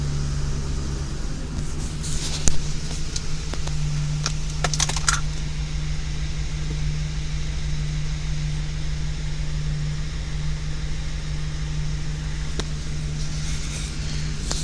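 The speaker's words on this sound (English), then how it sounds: "The vehicle has successfully started and is running." A 2007-2014 Ford Expedition's engine idles steadily after a remote start, a constant low hum with a faint tonal drone, with a few light clicks and jingles near the start.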